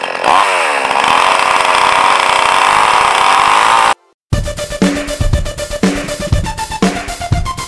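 A Champion 55 gasoline chainsaw runs loud and close at a steady high whine, cuts out abruptly for a moment, then sputters back with uneven revving bursts.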